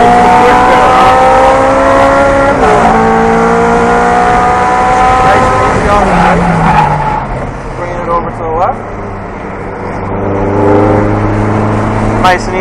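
A race car accelerates on a track, its engine loud and close, revving up through the gears with rising and falling pitch while someone talks over it.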